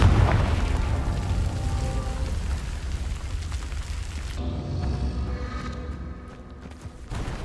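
A Confringo blasting spell from Hogwarts Legacy goes off in a deep, booming explosion that rumbles and decays over several seconds, followed by a crackling, debris-like tail.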